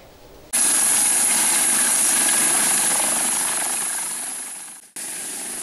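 A police helicopter sets down on a village football field, its rotor and turbine roaring loud and close in a dense steady wash that slowly fades, cuts out briefly, then picks up again.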